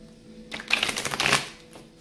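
A deck of tarot cards is shuffled up close for about a second, a dense flurry of papery flicks and riffles, with a lighter tap of cards just afterward and no talking.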